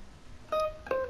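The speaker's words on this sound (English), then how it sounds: "Someone's ringing your doorbell." An in-game doorbell chime in Nioh 2: two short, clear electronic tones a moment apart, the second slightly lower, ringing over a quiet background with no talk.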